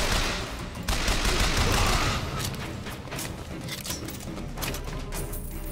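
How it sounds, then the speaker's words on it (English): Rapid gunfire in the video game Bioshock Infinite, a dense, loud spray of shots that starts at once and keeps rattling in overlapping bursts across the whole stretch. "Who's shooting?"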